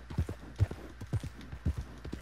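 Horse hooves clip-clopping in the video game Red Dead Online, a steady rhythm of paired thuds repeating about every half second, fairly close and alone with no talk over them.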